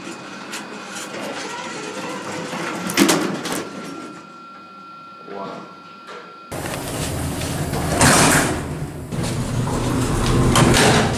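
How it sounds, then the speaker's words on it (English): An elevator moves and its door slides, with rumbling mechanical noise, a scraping slide midway, then a louder, denser rush of motion noise toward the end. "The whole freaking elevator moves."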